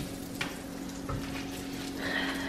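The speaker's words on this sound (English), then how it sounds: "we're gonna start cooking the shrimp next" Shrimp fry in a pan with a steady, close sizzle that swells slightly toward the end, broken by a couple of brief stirring knocks.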